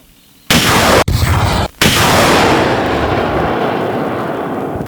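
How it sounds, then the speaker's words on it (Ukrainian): A Partyzan multiple rocket launcher fires three loud, rapid launches in quick succession, each a sharp roaring blast, followed by a long rushing roar that slowly fades. "Постріл!"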